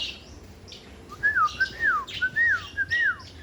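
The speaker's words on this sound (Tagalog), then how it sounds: "Mga lovebirds." Lovebirds chirp up close in a string of bright, rising and falling whistled calls that repeat steadily over a few seconds, with no talk over them.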